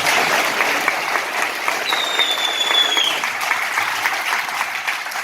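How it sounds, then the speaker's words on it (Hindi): An audience at a religious seminar claps together in sustained applause, dense and even, with a brief high whistle-like tone partway through before the clapping carries on. "अभी तक जो सुने हैं उसके लिए अच्छी ताली सिर्फ यीशु के लिए"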